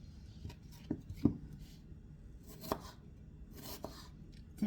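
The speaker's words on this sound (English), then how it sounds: "Thin slice an onion." A knife thin-slices an onion into half-moons on a cutting board for a cucumber salad, giving a few soft, irregular thuds close by with no voices.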